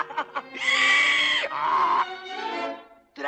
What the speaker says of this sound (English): you laugh like a donkey.